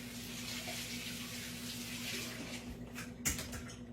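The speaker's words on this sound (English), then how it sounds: "Let me rinse my hands off" A kitchen tap runs steadily while hands are rinsed beneath it, a continuous close splashing hiss with a low hum behind it and a brief louder splash near the end; no talk.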